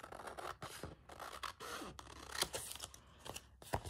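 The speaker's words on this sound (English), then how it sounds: "I then tend to pick up my scissors and do another rough cut." Scissors snipping and scraping through stacked papers during a rough trim for an Edith Holden style handmade journal, with close, irregular crisp cuts and rubbing over about four seconds and no talking.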